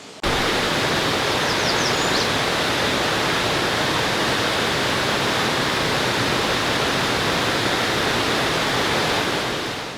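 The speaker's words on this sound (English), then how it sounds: "Can't really hear much because our waterfall is crazy loud" A crazy loud waterfall in a rainy Vancouver Island forest, a dense, constant roar of falling water filling everything, heard up close and alone for the whole stretch.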